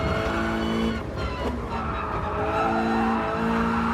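A Volkswagen race car in the Gran Turismo video game roars with a steady, sustained engine drone, with tire squeal and other cars mixed in, continuous and fairly loud.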